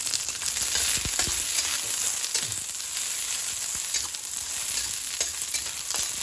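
Onions frying in a pan, a steady close sizzle with occasional light clicks of stirring, no talk over it.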